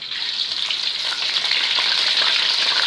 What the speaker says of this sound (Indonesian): lalu kita goreng kentangnya